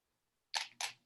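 Two quick camera shutter clicks from a single-lens reflex camera during a basic photography class, close and crisp, about a quarter second apart, with no talking.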